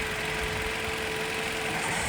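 A used car's engine idles steadily under inspection, a dense continuous hum and rumble with a constant tone and no breaks, fairly close and loud.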